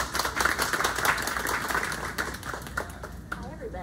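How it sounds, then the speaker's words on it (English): Scattered audience applause at a book reading event, moderate clapping from a small crowd that thins out toward the end, with voices faintly audible. "we can give them a round of applause"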